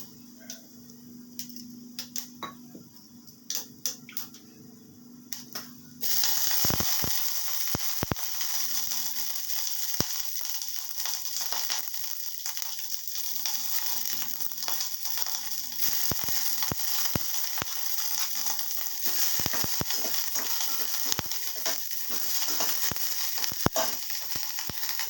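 Soaked curry leaves and mustard seeds drop into hot oil, setting off a sudden loud, steady sizzle with scattered sharp pops and crackles that continues unbroken; a low hum precedes it.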